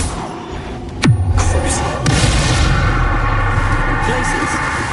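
A Bombarda spell blast goes off in Hogwarts Legacy: one sharp loud crack with a descending whistle into a deep rumble, then a second thump a second later over steady game noise.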